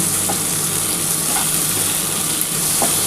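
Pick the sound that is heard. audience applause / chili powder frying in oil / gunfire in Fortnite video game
chili powder frying in oil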